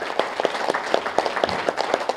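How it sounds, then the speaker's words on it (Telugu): An audience breaks into applause at a motivational talk event, a short burst of brisk, fairly close clapping with irregular sharp claps throughout. "ఒకసారి ఆయన గట్టి క్లాప్ చేద్దాం."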